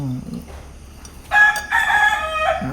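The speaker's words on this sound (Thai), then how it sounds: "โอ้ไก่ตัวนี้ขันแรงมาก" A loud rooster crows once nearby, a long strained call lasting over a second, with a brief quiet voice just before.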